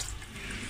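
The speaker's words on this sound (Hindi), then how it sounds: "पानी की क्वांटिटी ज़रा संभल संभल के डालिएगा।" Water pours steadily into a pot of dal mash being cooked dhaba style, a continuous close splashing hiss with no talk.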